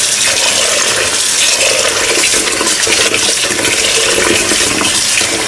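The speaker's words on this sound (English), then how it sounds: "we are going to wash our rice." Rice is washed by hand in water while cooking Afghani beef Kabuli pulao, giving a loud, steady, unbroken rush of splashing water throughout, with no talk.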